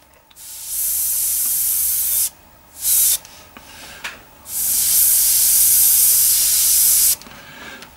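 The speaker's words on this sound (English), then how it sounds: "you can see spraying pretty well there" Iwata HP-M1 airbrush spraying in bursts: two long steady hissing blasts of roughly two and five seconds, separated by a short spurt and quieter pauses, close and loud with no talking.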